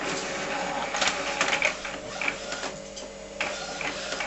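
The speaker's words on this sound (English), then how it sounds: "Printing merrily away. Nice cheap printing." An Epson SX600FW inkjet printer running off pages, its steady mechanical whir and shuttling carriage punctuated by clicks and rattles, close and continuous throughout.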